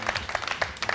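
An audience claps in steady, dense applause at a show, loud and continuous through the short moment.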